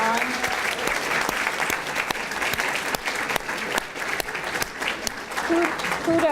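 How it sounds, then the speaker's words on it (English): Sustained applause from a crowd at a Women's History Month celebration, dense clapping filling the room at steady loudness for several seconds, with a few voices faintly under it. "give you a round of applause for putting this event on"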